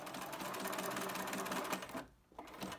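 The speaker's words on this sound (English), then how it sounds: "I'm just going to back stitch back up again over it, just for good measure." A sewing machine back-stitches over a seam on a bum bag with a fast, even mechanical rattle up close. The sound briefly drops off as the stitching reverses, then resumes.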